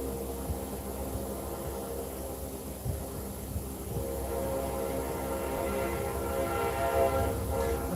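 A real train rolls by with a steady rumble that grows slightly louder toward the end, its horn sounding as sustained tones over the noise, with no talking.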